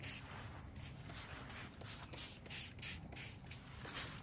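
A spray bottle mists a Coleman Instant Dome 5-person tent's rain fly from underneath, giving a steady close hiss with faint rubbing and shuffling against the fabric.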